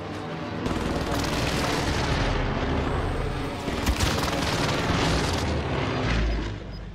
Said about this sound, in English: This is Phoenix 3. Strike inbound.